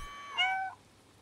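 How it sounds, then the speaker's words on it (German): The cat in the video game Stray lets out a single clear meow, short and close, over quiet background ambience. "Ich miau hier einfach mal rum."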